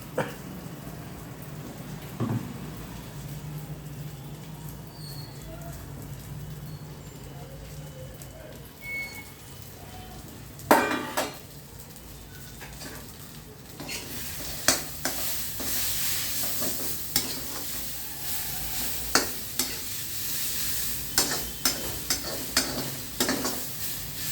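Mint leaves frying and being stirred in a pan for Telugu-style pudina chutney: soft scraping and sizzling runs throughout, with sharper utensil scrapes and crackles growing busier in the second half, close and steady with no talking.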